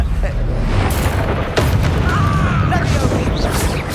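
A Confringo blast spell goes off in Hogwarts Legacy, a loud booming burst amid dense, continuous combat noise and rumble, with other spell effects crackling around it.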